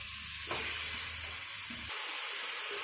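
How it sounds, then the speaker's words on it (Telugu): Country chicken stirred into softened onions in a hot pan, a steady close sizzle broken by scraping stirs, with no voices. "ఇప్పుడు నాటుకోడి చికెన్ వేసి కలుపుకోవాలి."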